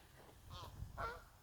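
Geese honk outdoors, two distinct nasal calls about half a second apart, fairly faint and a little distant over low background rumble, with no speech.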